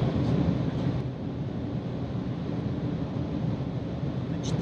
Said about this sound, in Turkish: Ciddi bir rüzgar sesi tabii.